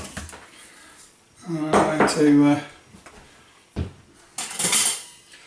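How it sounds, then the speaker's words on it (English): Butternut squash dropped and scraped into a bowl, with a few close clinks and knocks of utensil against dish, and a person talking between them. "put the butternut squash into a bowl"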